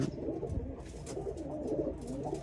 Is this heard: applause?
no